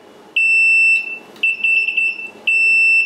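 A Fluke multimeter gives its continuity beep on a shorted connection while a wire to the centre terminal is tested: three loud, steady tones, the middle one broken and stuttering, alone in the clip.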